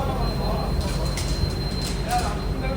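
Tirupati Express at Guntakal junction: a dense, continuous low rumble of the train with faint high squeaks, close and steady, while a voice speaks over it.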